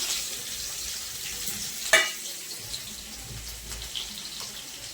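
Onion frying in a pan for Marathi vadyachi bhaji, a continuous soft sizzle heard up close with a sharp clatter near the middle and a few faint knocks afterward.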